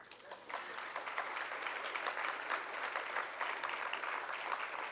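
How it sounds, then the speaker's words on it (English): An audience applauds for Lissa, a librarian honored as Library Journal's Library of the Year, with dense, steady clapping that holds evenly at moderate volume from start to finish and no voices over it. "I will tell her she got a round of applause."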